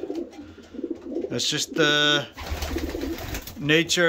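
Breeding pigeons coo in bursts up close, mixed with short chirps and rustling, while someone talks over them.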